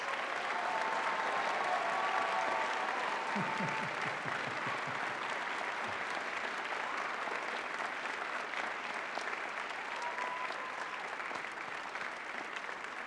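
Graduates and guests at a Berkeley physics commencement give a sustained round of applause, broad steady crowd clapping that holds for many seconds, with faint voices and a few brief whoops mixed in.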